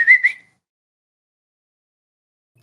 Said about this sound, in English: I whistle to the squirrel.